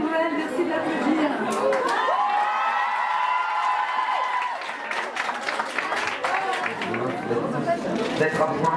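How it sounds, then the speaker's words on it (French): A crowd in a Lille bookstore applauds Patrick Bruel, clapping mixed with chatter and a sustained voice or tone through the middle, loud and steady throughout. "merci de l'applaudir"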